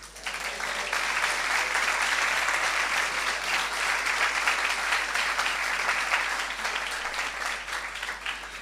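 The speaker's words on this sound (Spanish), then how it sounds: "Dele un aplauso al que está al lado" A congregation claps together during a church service, a dense and even wash of applause that holds for over eight seconds, fairly quiet overall, with no talking.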